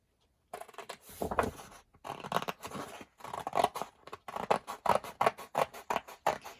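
Cardstock being trimmed for a journal folio, the scissors making a run of crisp snipping and cutting strokes, close and steady, with short pauses between bursts and no talking.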